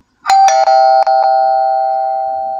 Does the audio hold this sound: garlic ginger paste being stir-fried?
no